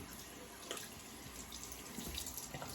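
Water running from a tap while rinsing off after a shave, a soft steady splashing and trickling with small drips, faint and close.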